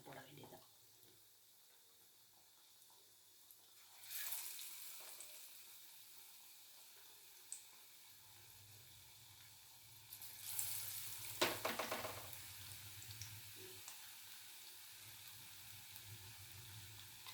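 Kerala-style Nendran banana fritters go into hot oil in two separate bursts of bubbling sizzle, with quiet, low background noise between them and no talking.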